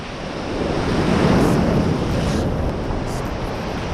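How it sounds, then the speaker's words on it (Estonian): Ocean surf rolls in at night, a steady loud wash of breaking waves mixed with gusty wind buffeting the microphone, swelling slightly in the middle and then holding constant, with no voices. "Lained on päris mõnusad."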